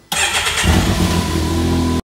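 A Can-Am Maverick X3 side-by-side cranks and fires up, a sharp starter burst settling into a loud, steady close-up idle that stops abruptly after about two seconds.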